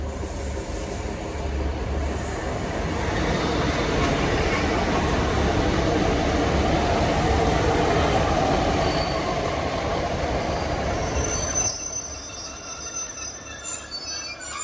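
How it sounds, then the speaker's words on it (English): A passenger train pulls into a station on the Denby Dale to Penistone line, its wheels squealing loudly and steadily over a rumbling roll for most of the stretch before easing off near the end. "Our train will be coming in behind very shortly."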